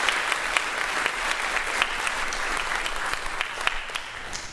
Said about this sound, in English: Please, a round of applause for the parents.